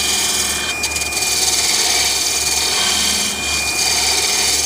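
A woodturning tool shears a cove on a spinning candlestick on the lathe, a loud, continuous scraping hiss over the motor's low hum, dipping briefly as the cut eases, with no speech.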